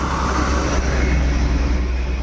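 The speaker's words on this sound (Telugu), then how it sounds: "బస్సు పోతుంది ఆరు గంటల బస్సు" The six o'clock bus passes by in the village, a loud continuous engine rumble and road roar close by, holding steady throughout.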